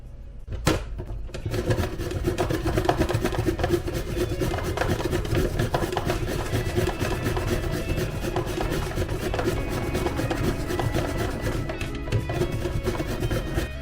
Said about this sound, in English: So let's go ahead and shred up the zucchini as a starter.